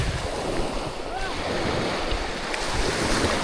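Sea waves wash and surge against a small boat under steady wind buffeting the microphone, a continuous rough rush of water.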